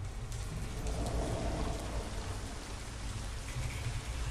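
Rain falls in a video game, a steady, fairly loud hiss of drops with a low rumbling undertone, continuous and alone with no voices.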